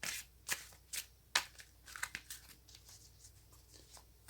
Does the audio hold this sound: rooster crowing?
no